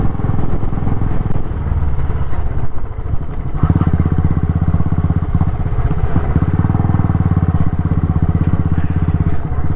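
Royal Enfield Electra 350 motorcycle riding along a road, its single-cylinder engine thumping steadily and loud throughout, close up, with a brief dip in the rumble partway before it picks back up.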